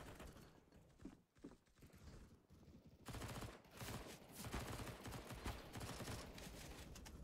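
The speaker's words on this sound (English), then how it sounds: "I'm actually shooting you in the head" Rapid gunshots in CSGO, quiet and muffled at first, then a dense, louder run of rattling automatic fire with mechanical clicks for the last several seconds.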